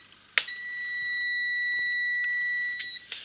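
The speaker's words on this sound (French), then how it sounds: "il y a un bip" A continuous high-pitched beep from a multimeter in continuity mode, sounding for about two and a half seconds as the red probe touches while troubleshooting a faulty TV, with a click at start and end.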